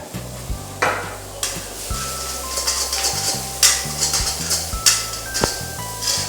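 Cabbage and carrot being stir-fried with finely chopped onions in a pan, a continuous sizzle broken by repeated stirring scrapes, close up, with steady background music underneath.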